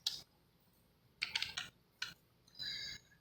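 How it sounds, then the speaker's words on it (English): Quiet keystrokes on a computer keyboard come in a few short bursts with pauses between them while a name is typed into simulation software. "I will type inlet."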